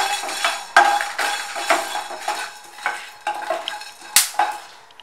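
Fenugreek seeds and peppercorns dry-roasting in a pan for a restaurant-style pepper chicken fry, with repeated scraping stirs, clinks of a spoon against the metal and a faint dry crackle, close and steady with no talk.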